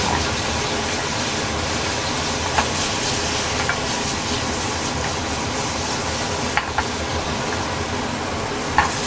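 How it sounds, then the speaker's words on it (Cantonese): Beef stir-fries in a wok over high heat, giving a loud, dense, unbroken sizzle with occasional sharp ticks and clatters of the spatula, and no voices. "咁炒啲牛肉咧，我自己就會中意猛火少少"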